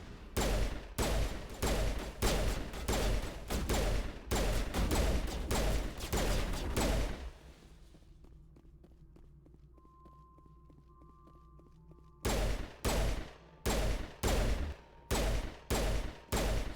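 Rapid pistol shots ring out in the Mass Effect video game, a loud run of sharp evenly spaced cracks, then a pause filled with low hum and faint tones before another steady volley of shots resumes.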